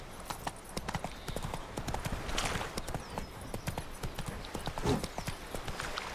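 Horse hooves gallop in a steady clip-clop rhythm while riding in The Witcher video game, the hoofbeats continuous and fairly loud over game ambience with no speech.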